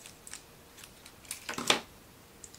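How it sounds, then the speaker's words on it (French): Scissors cutting a ribbon for a decorative bow, heard as a few quiet snips followed by a louder cluster of close, crisp blade closes, with no talking. "Je coupe mon ruban"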